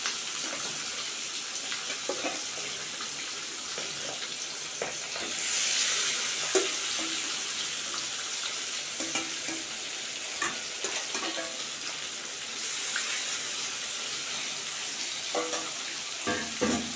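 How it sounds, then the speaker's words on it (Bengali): Pieces of silver carp fish frying in hot oil, a continuous loud crackling sizzle with occasional bursts and light utensil taps throughout. "আর যে 4 পিস আছে সেগুলোও ভেজে নেব"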